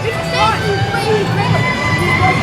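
Busy crowds at Rye Playland amusement park on Memorial Day weekend make a dense, close murmur of many voices with children shouting, while people talk nearby.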